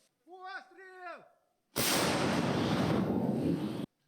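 A single loud, sustained roar of an artillery gun firing follows a brief shouted order, the blast filling the space for about two seconds before cutting off.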